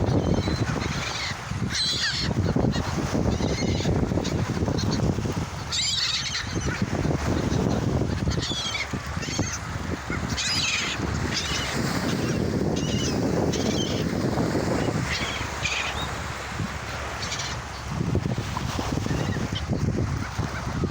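A crowd of seagulls being fed, honking and squawking continuously nearby, loud overlapping calls with flapping and rustling, no speech.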